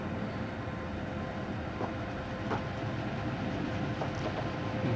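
Bakerloo Line underground train in Train Simulator running steadily, a continuous broadband rumble and rolling rail noise with faint rhythmic clicks of wheels over joints, no voices.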